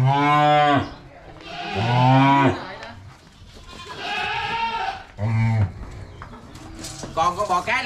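Sindhi crossbred cows moo loudly and close, with several long, drawn-out bellows and a shorter call near the end. A person's voice is heard briefly between the calls.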